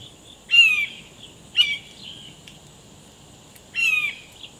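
A blue jay imitates a red-shouldered hawk, giving three loud, clear, descending screaming calls with pauses between them, alone against a quiet outdoor background.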